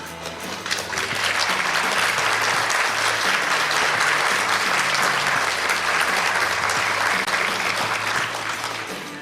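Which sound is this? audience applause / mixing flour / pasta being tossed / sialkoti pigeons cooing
audience applause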